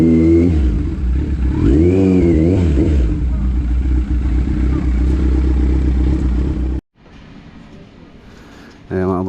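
A noisy motorcycle engine roars loud and close, revving up and down in a rising-and-falling whine before cutting off abruptly near the end, then briefly returning.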